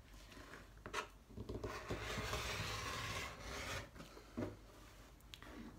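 Fabric strip cut along a 45-degree line for a quilting bias stem, a close, continuous rasping slice with brief scraping touches before and after, no talk.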